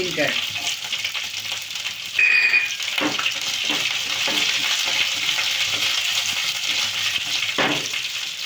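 Onions, curry leaves and green chilies fry in a pan for aloo masala palya, a steady close sizzle with a few sharp stirring scrapes and clinks over it, and no voices.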